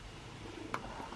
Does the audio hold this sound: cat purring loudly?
yes